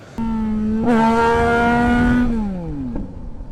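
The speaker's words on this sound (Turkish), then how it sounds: "Bu motosiklet Trump Tiger MT9 sesi çıkartan 660'lık bir motosiklet." Triumph Tiger 660 motorcycle engine at a motorcycle show in Istanbul, revving up sharply close by, holding a steady high drone, then dropping back toward idle with a final blip.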